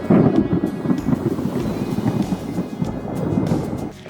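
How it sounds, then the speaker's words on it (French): Heavy rain with big drops pounding down during a storm at wheat-harvest time, a dense, loud, continuous patter with rumbling undertones. "il se met à pleuvoir des grosses gouttes"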